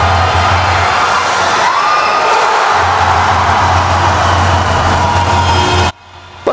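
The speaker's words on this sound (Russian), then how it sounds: "К четвертой товарищеской игре болельщики уже активно поддерживают свою команду." A crowd of hockey fans cheers and shouts for Dynamo-Altai inside an arena during a friendly match, a loud sustained roar with whoops that cuts off abruptly near the end.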